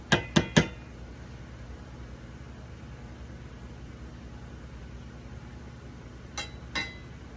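A spoon stirring a pot of boiling food clinks three times in quick succession, then twice more after a long pause, over a steady low hiss from the stove.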